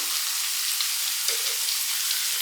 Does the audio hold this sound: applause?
no